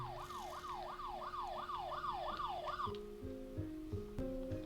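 A police siren in the video game Fears to Fathom: Home Alone wails, rising and falling repeatedly, then shifts to shorter stepped tones, heard at moderate distance with no talking.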